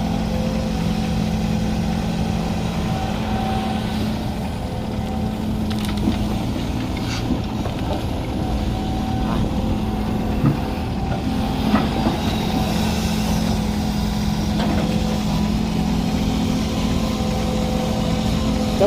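Sumitomo SH130F-6 excavator with an Isuzu 4JJ1X four-cylinder turbo diesel engine working a dig, a steady close mechanical drone with low humming tones and occasional clanks and knocks.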